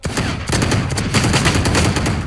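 Rapid automatic gunfire in the video game Valorant, dense back-to-back bursts of loud, close shots filling the whole moment with hardly a gap.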